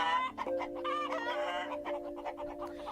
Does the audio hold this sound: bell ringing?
no